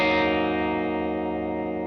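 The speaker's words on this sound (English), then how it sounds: "We'll go back to a little spring reverb sound there." An electric guitar chord played through a Gamechanger Audio Light spring reverb pedal rings out after a sharp attack. The dense, shimmering sustain slowly fades and is heard alone.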